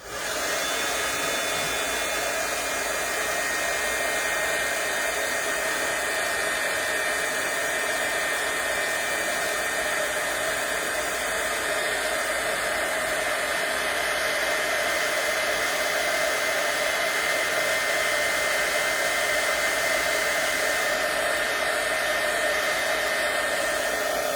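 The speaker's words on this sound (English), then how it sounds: "All right, so I'm going to get my heat gun and get this going." A heat gun blows steadily for the whole stretch, a loud continuous airy roar with a high whine, used on a small faux leather craft project.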